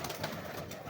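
A breeder pigeon gives a short, soft coo, close by and fairly quiet, with no talking over it.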